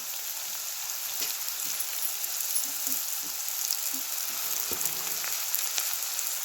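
Garlic and coconut masala roasting in a pan for a bitter gourd dish, a soft steady sizzle with occasional light taps and scrapes of stirring, fairly quiet and close.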